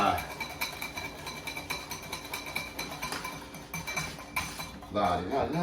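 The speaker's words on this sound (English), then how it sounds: "And I'm gonna whisk this up." Metal whisk beating sugar in a bowl while making custard, a steady run of rapid clinking scrapes against the bowl, close and fairly loud, with brief louder clatter near the end.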